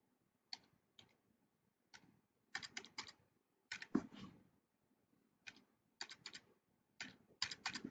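Calculator keys tapped to enter numbers during a classroom algebra data lesson: short bursts of quick plastic clicks, single taps and rapid clusters, near and fairly quiet, with no talking.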